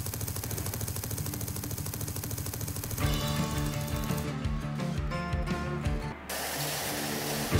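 A Phalanx CIWS gun in a TerraTech video game mod fires a continuous, buzzing high-rate stream of shots. The sustained roar changes tone partway through and briefly dips near the end.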